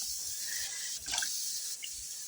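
Rainwater poured into a cooking pot, a steady hissing trickle with small splashes and drips, faint and without talk.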